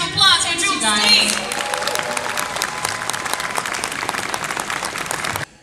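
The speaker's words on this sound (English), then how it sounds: "another round of applause for Joel Stait" A large audience at the 2019 VisionCon fan convention Q&A gives actress Jewel Staite a sustained round of dense applause that lasts almost the whole clip, with a brief vocal, tonal sound near the start before the clapping fills in.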